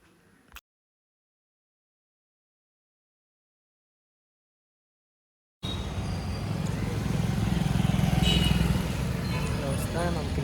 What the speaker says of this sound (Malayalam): കാലത്ത് തന്നെ നമ്മൾ ബൈക്കിൽ കയറി